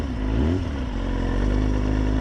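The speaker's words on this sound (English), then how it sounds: "The downshift rev match." A 2003 Kawasaki ZX6R motorcycle engine blips and rises in pitch during a downshift rev match, then settles into a steady loud drone close by.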